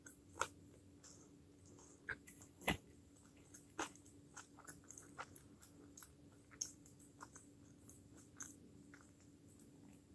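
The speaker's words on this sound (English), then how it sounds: "Do I chew more on one side of my mouth than the other?" Quiet, close chewing of food at a mukbang dinner, with scattered crisp bites, clicks and wet mouth sounds at irregular intervals over a faint steady background hum.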